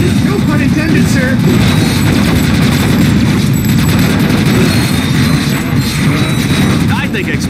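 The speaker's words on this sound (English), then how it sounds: "I think explosions are pretty." Explosions and rapid gunfire from the Ratchet: Gladiator video game, a loud continuous barrage of booms and shots throughout.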